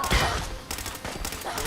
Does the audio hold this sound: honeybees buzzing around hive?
no